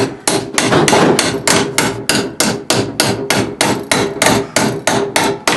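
Rapid, ringing hammer blows strike a sheet metal rear seat panel of a Plymouth Duster in a garage, steady rhythm, about three per second, loud and close with no voices.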